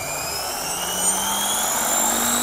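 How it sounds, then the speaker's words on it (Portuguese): A KDS Innova 550E flybarless RC helicopter spools up its turbine with a steady, rising whine and high tonal hum. The sound is close, fairly loud and continuous, with no talking over it. "Agora ligou a turbina."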